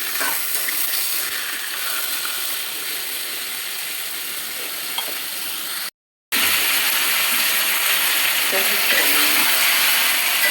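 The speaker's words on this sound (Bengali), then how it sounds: "10 মিনিটের মতো মাংসগুলো ভেজে নিব।" Chicken pieces fry in a pan with a loud, continuous hiss and crackle of hot oil, broken by a brief moment of silence before the sizzling resumes just as strong.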